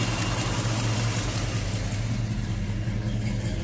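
A Dart car's engine runs at a steady idle, a low, even rumble with a mild throb, heard close and alone.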